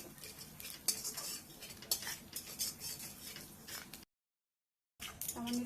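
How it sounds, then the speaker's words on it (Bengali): Vegetables for a Bengali shukto dropped into a kadai of ghee with panch phoron and crushed ginger, then stirred; close metal spoon clatters and scrapes over a light sizzle, broken by a short silent gap. "সবজিগুলো এক এক করে দিব"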